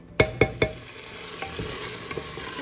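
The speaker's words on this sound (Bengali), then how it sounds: "চালটাকে ভালো করে ভেজে নিব" Rice frying with spice masala in a pressure cooker, three sharp spoon scrapes in quick succession followed by softer stirring taps over a low sizzle, close by.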